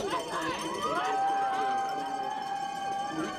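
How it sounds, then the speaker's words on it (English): Spectators at a men's skeleton World Cup race in Lake Placid make a low, distant crowd murmur, with cowbell-like clanks and a sustained whistle or horn tone over the continuous trackside din. "The crowd's getting a little loud down here."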